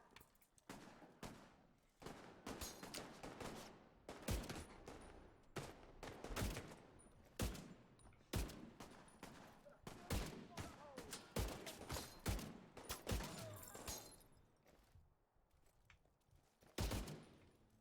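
Gunfire in The Division 2 comes as repeated sharp shots and short bursts through a firefight, moderately loud and uneven in rhythm, with voices talking now and then under the shooting.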